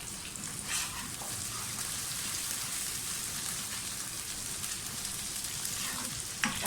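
Onions browning in hot oil with ginger garlic paste for boneless chicken hiss in a dense, continuous sizzle, loud and close throughout with a faint stir or two and no voices.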